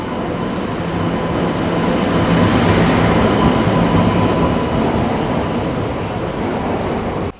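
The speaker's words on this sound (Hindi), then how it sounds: "यहाँ अपनी आ गई चिरीमरी रीवा एक्सप्रेस" The Chirimiri Rewa Express pulls into an Indian railway platform with loud, continuous rolling rumble and rattling of coaches from start to finish, close by, with no talk over it.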